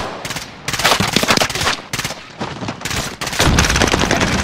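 Rapid automatic gunfire in Call of Duty: Modern Warfare rattles in dense, loud bursts with brief gaps, sustained machine-gun fire mixed with heavier shots and no talking.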